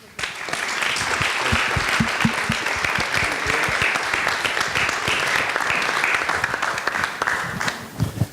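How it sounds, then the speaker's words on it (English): A conference audience at J on the Beach claps for hackathon winners in a closing round of applause, dense and steady with distinct individual claps close by, lasting about eight seconds. "So now, final applause for all of them."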